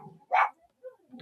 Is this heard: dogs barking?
yes